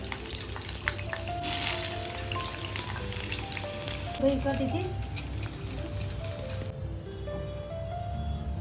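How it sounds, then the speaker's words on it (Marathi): Potato pieces fry in hot oil for a vegetable biryani, giving a steady close sizzle and crackle throughout with occasional stirring and light background sounds. "आता आपण बटाटा फ्राय करून घेऊया।"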